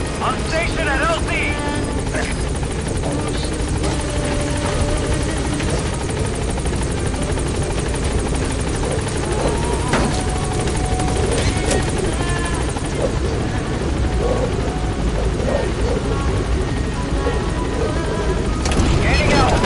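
Helicopter Pequod in Metal Gear Solid V arriving at a landing zone, a steady loud rotor drone filling the whole stretch, with radio-style voices talking over it and occasional distant booms.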